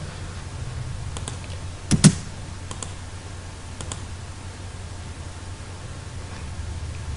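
A few isolated computer keyboard key presses, including a sharper pair of clicks, sound faintly over a steady background hiss in a quiet room during AutoCAD Civil 3D drawing work, with no one speaking.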